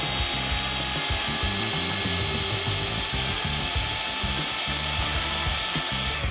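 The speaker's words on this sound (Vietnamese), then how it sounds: "Để làm thế thì tớ sẽ dùng máy trộn." A close electric mixer whirs steadily as it beats cream cheese with condensed milk, with a rhythmic mechanical chatter from the beaters throughout and no talking.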